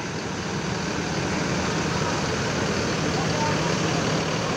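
A Bagong economy-class bus on the Surabaya–Malang route pulls into Purabaya (Bungurasih) bus terminal, with a steady, loud engine rumble blending into continuous broadband terminal noise throughout.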